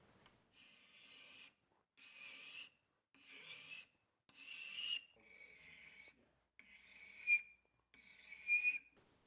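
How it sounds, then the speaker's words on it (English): A metal blade being filed to a 25-degree bevel in a woodworking shop: seven long, steady rasping strokes, each followed by a short pause, close and fairly loud with no talking. "The next step is going to be to file a 25-degree bevel to establish our blade."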